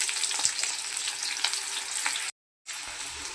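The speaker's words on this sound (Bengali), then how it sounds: "তারপর দিয়ে দিচ্ছি পেঁয়াজ কুচিগুলো" Chopped onions hit hot oil in a wok already tempered with a bay leaf and whole cumin, giving a loud, steady sizzle with a few scraping stirs, briefly cut to silence near the end.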